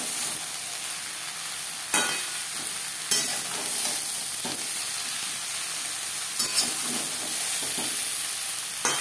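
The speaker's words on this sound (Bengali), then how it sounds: "আলু ও মশলার সাথে ঝিঙে বেশ ভালো করে মিক্স করে দেবো।" Ridge gourd, potatoes and spices fry in a pan with a steady close sizzle, and a spatula stirs them in a few distinct scraping strokes spaced several seconds apart; no voices.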